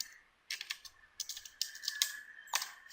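Code is typed on a computer keyboard in quick bursts of crisp key clicks separated by short pauses, close and fairly quiet, over a faint steady hum.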